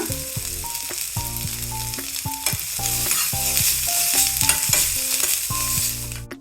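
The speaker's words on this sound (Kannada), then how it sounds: "ಮೆಣಸಿನ್ಕಾಯಿ ಹಾಕೋತಾ ಇದ್ದೀನಿ ಶುಂಠಿ ಇಟ್ಕೊಂಡಿದ್ನಲ್ಲ ಶುಂಠಿ ಹಾಕೋತಾ ಇದ್ದೀನಿ" Green chilli, ginger and coriander fry in a pan with a soft, steady sizzle. Music plays throughout.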